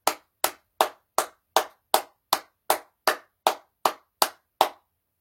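Thirteen sharp, evenly spaced hand claps ring out alone in a steady slow rhythm, each with a short echoing tail, then stop.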